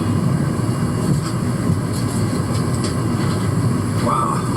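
Steady broadband roar inside a packed airliner cabin in flight over the mountains, a constant engine and air rush with no voices and only faint passing tones.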